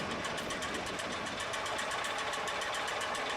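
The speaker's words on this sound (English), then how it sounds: "The tractor has just stopped." A video-game farm tractor engine keeps running at a steady, rapid mechanical chatter after the tractor has stopped, even and close with no rise or fall in level, alone without talk.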